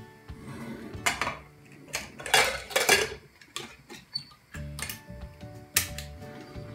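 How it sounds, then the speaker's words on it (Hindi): A pressure cooker lid is fitted and closed in a home kitchen while cooking dal, giving several sharp metallic clinks and scrapes in uneven bursts with quiet gaps between, close to the microphone. "कुकर का ढक्कन बंद कर देंगे।"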